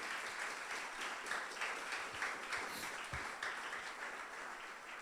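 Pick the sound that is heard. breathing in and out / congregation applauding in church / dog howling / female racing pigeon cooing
congregation applauding in church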